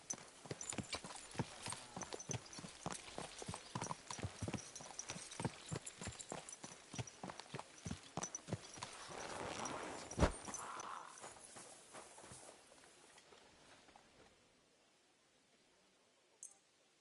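Horse hooves clip-clopping at a steady walking rhythm in Kingdom Come: Deliverance II, close and fairly loud, with several dozen regular strikes before the steps stop and the scene goes quiet.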